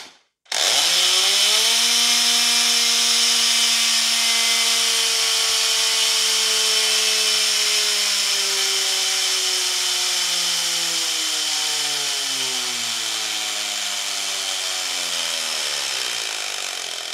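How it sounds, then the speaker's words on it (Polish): Compressed-air engine of an Atmospheric Turbo Racer model car running steadily, a loud continuous harmonic whine with a hissing air rush that slowly drops in pitch as it winds down, heard up close with no talking. "Chcecie zobaczyć, jak działa ten silnik w rzeczywistym tempie?"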